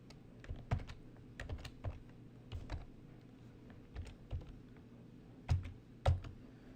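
Someone types a password on a computer keyboard, a quiet, close series of irregular key clicks and taps in small bursts with pauses, no talking.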